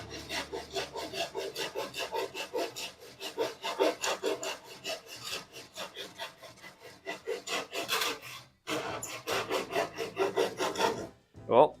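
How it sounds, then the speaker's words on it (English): A handsaw cuts through pallet wood in quick, rhythmic back-and-forth rasping strokes, close and fairly loud, with a brief pause partway through before the sawing resumes. "it should be a little bit more friendly to the handsaw"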